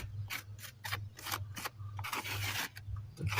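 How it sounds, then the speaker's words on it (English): Mortar joints in brickwork being rubbed back during repointing, giving a close, dry rasping scrape in repeated short strokes with brief pauses, over a low steady hum. "I think I just about caught the mortar before it was going to set too hard to actually rub back."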